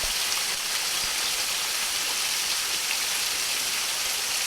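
A small cascade on Charit Creek in Big South Fork, Tennessee, heard up close as a steady, even broadband rush of falling water with no voices.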